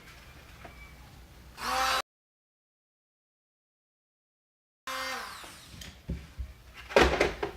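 A power sander grinds against a plastic speaker pod for a 2007-2014 Silverado, a short loud buzz that cuts off, followed after a gap by more sanding and handling noise.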